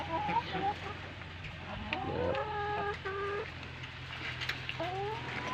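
Chickens cluck and make short rising calls nearby, scattered over a quiet outdoor background.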